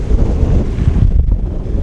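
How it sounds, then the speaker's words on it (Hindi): Strong cold wind buffets the microphone in a steady, loud, close rumble with no pauses and no talk. "ठंड बढ़ रही है, बहुत तेज हवा चल रही है।"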